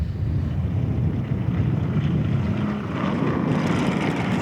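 A 1950s Allard sports racing car at a Sonoma track roars along with a loud, continuous engine drone and wind rumble, fairly close and steady throughout.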